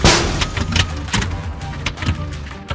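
Repeated heavy metallic knocks and thuds from a car engine with a failed piston, loud and irregular over a rough mechanical rumble during a roadside repair.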